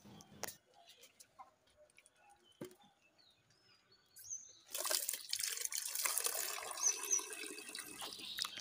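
Water poured into dry duck feed, a burst of splashing and trickling that starts after a quiet stretch of small clicks and taps and continues steadily to the end.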